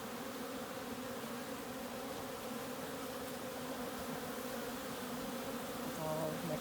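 Honey bees buzz steadily around a hive frame as they gather nectar, a dense, continuous drone held close and even from start to finish, with no voices.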